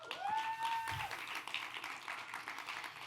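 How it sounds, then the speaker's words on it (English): Applause from a hackathon demo-day audience, a steady wash of clapping at moderate volume that runs through the whole stretch, with a brief whistle or tone rising over it near the start. "So give yourselves another round of applause"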